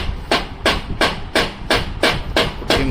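A mallet of the kind tile layers use, tapping parts into place while rebuilding a bicycle onto a Merida frame: eight sharp, close blows in a steady rhythm about every 0.6 seconds, with nothing else over them.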